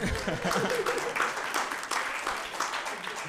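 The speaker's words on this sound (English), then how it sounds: "How about a round of applause for Ed Sheeran's Taylor Swift impression?" Audience applause at a live comedy show staged as a mock trial, dense steady clapping filling the whole stretch with crowd noise and no clear speech on top.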